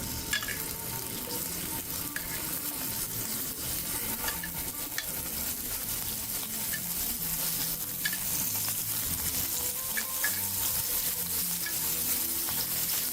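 Food frying in a hot pan for a few minutes on each side, a steady, dense sizzle that carries on unbroken throughout, close and even, with no voices.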